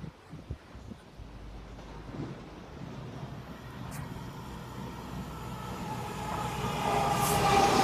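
A CrossCountry train, unit 220019, passing straight through platform 1 at Berwick-Upon-Tweed station, a steady rumble that builds gradually toward the end, with faint brake or wheel squeal near the close.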